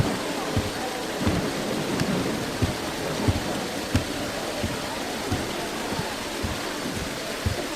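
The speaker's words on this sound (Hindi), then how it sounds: "तुम तो बारिश को देखो" Heavy rain pours steadily with repeated low thunder rumbles and thuds throughout, a dense, loud downpour with no talking over it.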